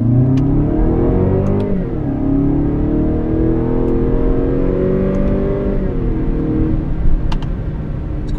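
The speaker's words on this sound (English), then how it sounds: "10 miles an hour, first gear, sport mode with the sound enhancer" A 2015 Lexus NX200t F Sport pulls away from 10 mph in first gear in sport mode with its sound enhancer on, its engine note climbing steadily, dipping briefly, then rising again as it accelerates, loud and continuous with no talk.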